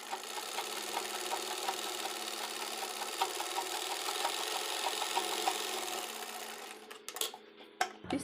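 A sewing machine runs steadily for about seven seconds, a fast even whir of needle strokes while stitching a baby's frock, then stops and a few light handling clicks follow.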